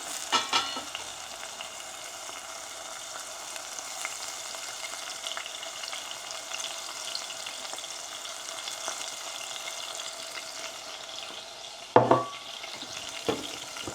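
A fenugreek mixture fries in a pan with a steady, even sizzle throughout, while a spoon stirs it now and then, giving a couple of sharper scraping knocks near the end.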